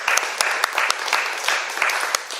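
An audience at a panel discussion on press freedom gives brisk, close applause: sharp individual claps stand out over a steady clatter of many hands, continuous throughout.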